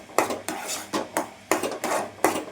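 A ladle or spoon scraping around a pan of thick urad dal kali as it is stirred, making a series of quick, close, regular scrapes and clinks, about six strokes in steady rhythm.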